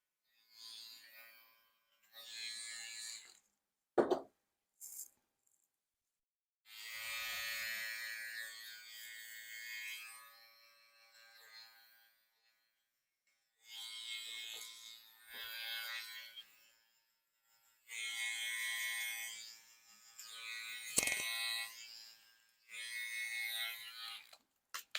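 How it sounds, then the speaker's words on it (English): A balding clipper flicks a very low taper line into hair, its buzzing motor running in several bursts of a few seconds each, close and fairly steady, with quiet gaps between passes. "go back in with your balding machine and just go ahead and flick that very low"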